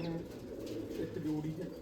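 Pigeons coo softly in a loft, low rolling calls mixed with faint voices nearby.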